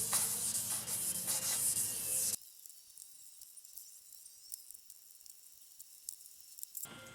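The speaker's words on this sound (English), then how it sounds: "You can see how the lens is already clearing up with that 2000 grit taking out the scratches." 2000 grit sandpaper rubs over a foggy plastic car headlight lens, giving a close, bright, hissing scrub for about two seconds before it drops to faint, sparse scratching.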